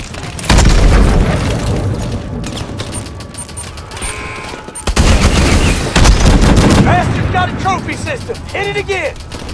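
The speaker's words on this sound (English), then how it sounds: "Mitchell, grab that launcher and take down that Titan" In the Call of Duty: Advanced Warfare campaign, rocket launcher blasts hit a Titan walker, loud booming impacts and explosions layered with gunfire and battle noise while voices shout over the combat.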